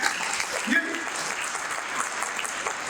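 Audience clapping at a Hindi comedy poetry gathering, a short stretch of steady applause with a voice speaking over it.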